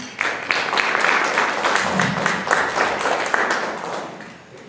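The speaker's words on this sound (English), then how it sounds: "Give him a round of applause, everyone" An audience applauds a performer playing Winston Churchill at a WW2-themed show, steady dense clapping throughout, near and fairly loud, easing off slightly at the end.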